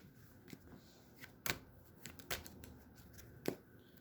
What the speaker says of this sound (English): I didn't really shuffle this deck beforehand, so I'm going to shuffle it real quick.